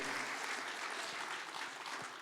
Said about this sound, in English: That applause should be for you guys, all right?